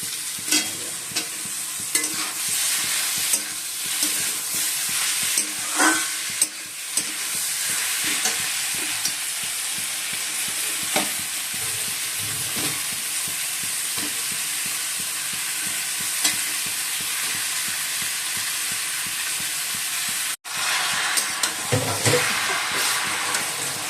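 Chicken and tomatoes are stir-fried kosha style in a pan, with a continuous sizzle broken by repeated scraping and clattering stirs of a spatula and one brief dropout near the end.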